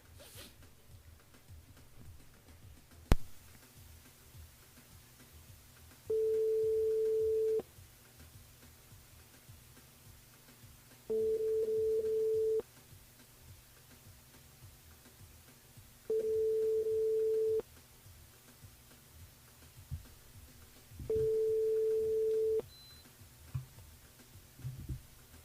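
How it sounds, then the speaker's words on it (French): A telephone busy signal sounds four times, each tone lasting about a second and a half, spaced evenly apart, as a radio host dials a listener; quiet studio background with a brief thump early on. "il appelle Mathieu"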